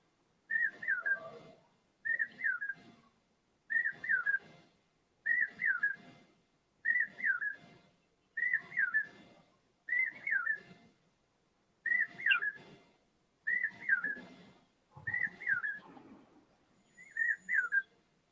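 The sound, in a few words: person whistling imitating a bird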